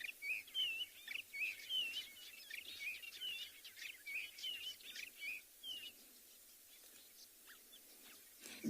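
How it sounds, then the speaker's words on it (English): Ant-eating chat calling repeatedly in open country at sunrise, a run of bright, close chirping notes in quick bursts over faint background hiss, tapering off toward the end. "Here is a ant-eating chat."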